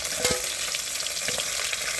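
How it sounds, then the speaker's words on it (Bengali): Catla fish pieces fry in a pan with a loud, dense, continuous sizzle and a few faint stirring clicks, with no one talking over it. "মাছ ভাজা হয়ে যাচ্ছে, এবার তুলে নেব।"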